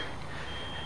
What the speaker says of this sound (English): You can hear all the alarms going off, probably gas detectors,